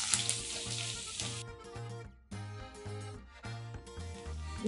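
Ginger and cumin sizzling in hot oil, a steady close hiss of frying over a low background hum and music, with no talking.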